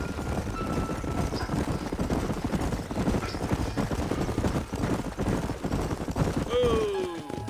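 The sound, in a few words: horses' hooves clip-clopping in the video game Red Dead Redemption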